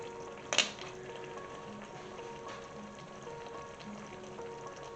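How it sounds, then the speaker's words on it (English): Clams tipped into a simmering seafood bouillabaisse give one brief clattering splash near the start, then a faint steady bubbling and sizzle carries on quietly alone. "Now I'm just going to add the clams in."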